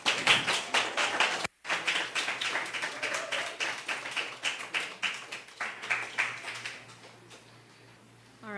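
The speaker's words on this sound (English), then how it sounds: "One more round of applause for that wonderful, wonderful performance." Audience applause after a memorial lecture, a steady patter of many hands clapping that holds for several seconds before thinning out, moderately loud with no talking.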